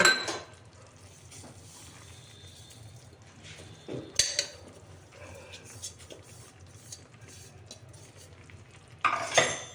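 A jaggery and sesame seed mixture stirred in a pan, with a spoon scraping and clinking against the metal in a few close bursts over a quiet background.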